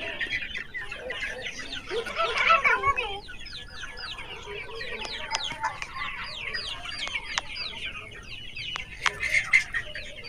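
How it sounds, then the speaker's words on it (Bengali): Many Sonali chickens on a poultry farm cluck and chatter at once, overlapping short calls rising and falling, with an occasional sharper squawk standing out from the flock. "এই যে মুরগির ফার্মে অনেক মুরগি কিন্তু"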